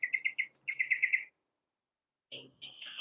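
A nearby bird gives loud, rapid bursts of chirps, a quick run of notes, a pause, then more calls, with faint low sounds in between.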